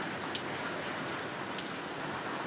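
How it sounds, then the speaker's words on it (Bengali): Rain falls steadily under a dark sky, a soft, even hiss of drops with no voices, fairly faint and unbroken throughout. "আকাশ একদম অন্ধকার করে বৃষ্টি নেমেছে"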